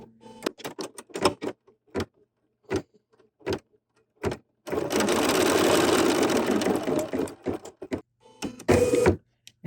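An embroidery sewing machine stitches in short mechanical bursts and taps, then runs in a longer continuous whirring stretch before more brief clicks, close and fairly quiet.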